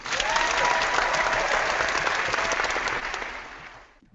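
Canned applause sound effect played during a livestream fan chat, a dense, steady wash of clapping and light crowd noise at moderate volume that fades out near the end.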